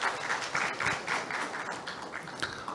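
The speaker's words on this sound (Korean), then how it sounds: "다시 한번 큰 박수 부탁드리겠습니다" Audience applause at a Korean industrial safety and health seminar, a room of people clapping together in a steady, fairly even patter that stays at one level for a few seconds without speech.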